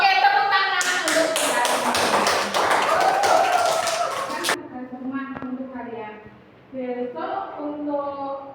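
Children in a classroom clap in a quick rhythmic burst for a few seconds, then stop. Voices speaking and singing carry on over and after the clapping.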